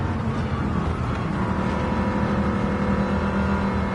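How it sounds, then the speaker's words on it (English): A V10 engine in Gran Turismo 7 drones at a loud, steady high rev, a continuous buzzing roar with no pauses and no talk. "Love the sound of that V10 engine."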